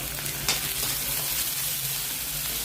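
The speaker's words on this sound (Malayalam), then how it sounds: "ഇനി ഇത് നന്നായിട്ട് വഴറ്റിയെടുക്കാം" Vegetables sauté in hot oil for leftover idli masala upma, a steady close sizzle with faint stirring scrapes and no voices over it.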